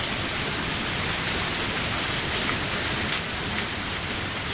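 Steady, heavy rain in a video game pours without pause, a dense even hiss with no voices.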